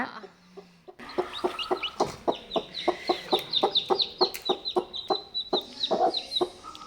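A hen clucks in a steady, rhythmic run of short calls near newly hatched chicks, close and clear, with faint high peeps in between.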